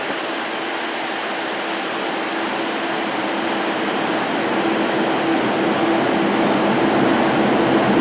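Inside a Class 156 diesel train unit on the run to Lowestoft, a steady rumble of engine and rolling wheels builds slightly louder over time, with no talk.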